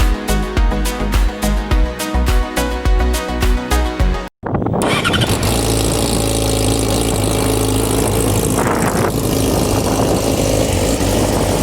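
A Yamaha R6 motorcycle with the stock muffler fitted to GYTR headers idles with a loud, rapid pulsing beat, cuts out briefly, then is revved into a sustained, dense, very loud roar close by.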